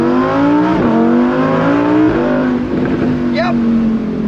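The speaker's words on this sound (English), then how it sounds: "Ah, that noise, naturally aspirated V10." Naturally aspirated V10 of a Lamborghini Huracan Spyder pulls hard through the revs, its loud rising engine note climbing in steps with gear changes, close by, with a voice talking over it.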